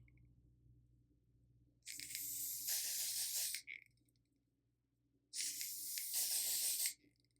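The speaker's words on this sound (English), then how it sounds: "I'm going to take the Ebin Wonder Lace Bond Adhesive Spray and Sensitive, and I'm going to spray this across my entire hairline" Ebin Wonder Lace Bond adhesive spray misted across a lace wig hairline, two loud hissing bursts of about two seconds each with a quiet pause between, close to the mic.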